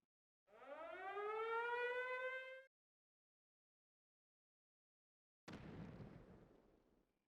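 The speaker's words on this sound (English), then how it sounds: "Is that sound a mortar?" A mortar shell fires in the Valkyria Chronicles battlefield: a rising siren-like whistle for about two seconds, a pause of silence, then a single loud blast that slowly fades, with no voices.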